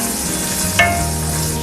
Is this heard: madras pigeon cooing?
no